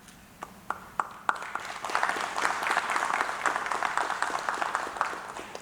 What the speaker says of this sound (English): So would you please applaud for them?